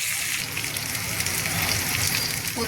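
Onion sautéing in oil for khar wanga masala, a steady, close, loud sizzle and crackle filling the whole moment with faint stirring.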